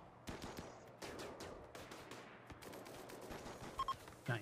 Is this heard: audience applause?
no